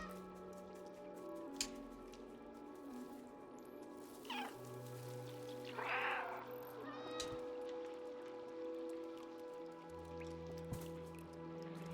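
Several cats in the video game Stray meow in short, spaced calls over a steady ambient game soundscape, with dripping water and a low hum around them and no talking.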